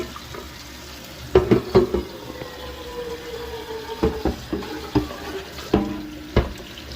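Stainless steel whistle tea kettle being washed under a running tap, water hissing steadily with repeated clanks and knocks of the metal kettle against the sink at close range.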